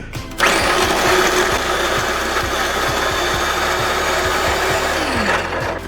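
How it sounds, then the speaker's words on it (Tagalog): An electric blender grinds onion and garlic with a loud, steady whir that starts abruptly after a brief pause and runs continuously, close up, until the very end. "Dito, igiling na natin tong ating sibuyas and garlic."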